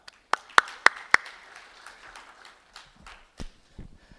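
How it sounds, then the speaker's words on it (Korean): Sparse applause from a small audience at a Korean charity foundation's public grant program briefing, greeting a director coming up to present: a few loud close claps at first, then scattered softer clapping that thins out. "정경훈 국장님 박수와 함께 모시도록 하겠습니다."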